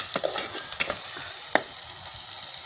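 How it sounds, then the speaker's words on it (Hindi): Masala spices fry in a pan with a soft sizzle, broken by a few sharp scraping clicks as a spoon stirs them, close and fairly quiet with no talking. "थोड़ा सा ये मसाला भून जाए ताकि इसकी स्मेल ख़त्म हो जाए"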